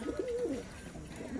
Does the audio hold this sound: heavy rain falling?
no